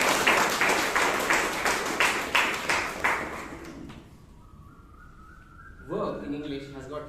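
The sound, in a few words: audience applause at a Toastmasters meeting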